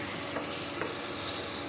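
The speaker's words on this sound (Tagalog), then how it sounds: "Nagigisa ng kamatis, sibuyas, bawang." Tomatoes, onions and garlic sauté in a hot pan for Filipino apritada, a dense, even sizzle close up with a couple of faint stirring scrapes and no voices.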